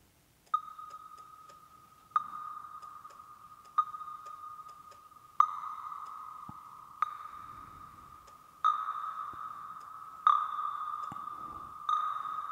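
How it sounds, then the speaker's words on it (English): A bell patch built in the Serum synthesizer, soloed and run through a comb filter, strikes a series of about eight ringing tones at an even pace, each with a sharp attack and a slowly fading, metallic, resonant tail. "solo the bell, and let's add a filter. And we'll see what the comb does to it."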